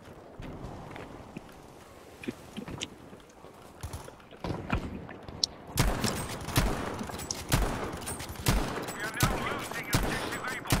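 Rapid gunfire bursts in the multiplayer shooter Battlefield V, loud sharp volleys growing denser in the second half, with game ambience and no speech.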